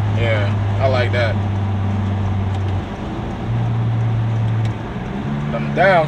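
A sports car engine drones steadily at low pitch, dropping and rising as it shifts down, with a voice talking briefly over it near the start and end.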